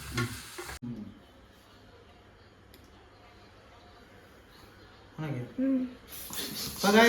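Chopped tomatoes and onions sauté in a pan, giving a soft, continuous sizzle with occasional stirring scrapes. Someone talks briefly at the start and again near the end.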